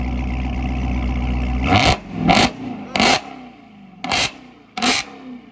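A Dodge Challenger Hellcat idles with a deep, loud burble, then is blipped in five short, sharp revs separated by brief drops back toward idle.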